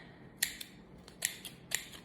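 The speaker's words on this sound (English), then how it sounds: "with scissors that work" Scissors snip embroidery thread in three sharp, close cuts, each a crisp metallic click followed by a softer closing snap, in a quiet room.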